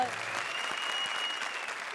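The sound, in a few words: applause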